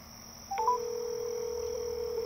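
A phone call placed through the Blue Walker 3 satellite from Hawaii, with a couple of brief dial beeps followed by a steady ringing tone over a constant high electronic whine.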